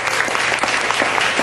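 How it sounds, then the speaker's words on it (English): Dense, steady applause from a studio audience fills a brief moment, loud and continuous with no talking. "Give her a big round of applause."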